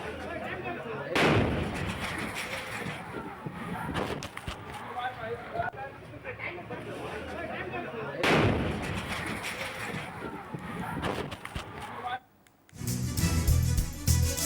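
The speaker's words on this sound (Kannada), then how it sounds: "ಅದನ್ನು ನಂದಿಸೋಕೆ ಹೋದಂಥ ಸಂದರ್ಭದಲ್ಲೇ ಮತ್ತೊಂದು ಬ್ಲಾಸ್ಟ್ ಆಗಿರೋದು ನೋಡಿ ಅಲ್ಲಿ" Gas cylinder blasts at a burning building in Bengaluru: two loud, sharp bursts boom out near the start and around eight seconds, each trailing into crackling roar and commotion, with a brief drop to quiet before another dense burst near the end.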